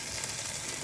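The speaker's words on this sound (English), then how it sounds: "Listen to that sizzle." Steady, close sizzling of country-style pork ribs on a grill, a dense crackling hiss that holds evenly throughout with no voices.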